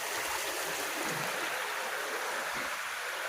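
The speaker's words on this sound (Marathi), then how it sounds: "पाण्याचा आवाज बघा किती खळखळून येतात तो" Water gurgling and rushing over a pond outlet in the Konkan countryside, a steady close, continuous babbling flow with no voices.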